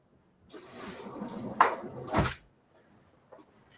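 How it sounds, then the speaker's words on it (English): A door swings and is shut in a quiet room, a soft rustling slide building to a sharp click and then a dull thud as it closes, followed by near silence and a faint small knock. "Start by shutting my door."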